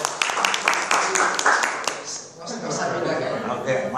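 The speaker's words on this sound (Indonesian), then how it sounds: "Silakan beri aplaus dulu" Clapping from a seminar audience at a thesis proposal simulation, dense broadband applause lasting the whole stretch and mixed with chatter and a little laughter, fairly close.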